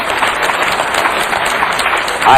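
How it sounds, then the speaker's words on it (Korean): A lecture audience claps in a dense, continuous round of applause, loud and close, holding steady for the whole stretch. "무슨 정치연설이라고 또 박수같이 치시고 그래요."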